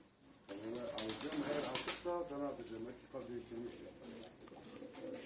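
Soft, throaty pigeon coos repeat in short bursts close by, mingled with rustling and a person talking nearby.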